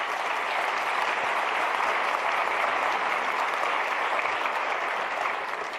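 Steady, dense audience applause at a symposium fills the room at full strength for about six seconds, many hands clapping together and easing slightly only at the very end.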